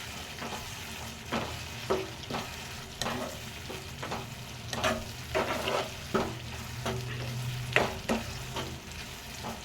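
An Andhra-style egg, drumstick and tomato curry with turmeric and chilli powder cooks in a pan over medium heat. A low sizzle runs underneath while repeated scraping spoon strokes land roughly every second.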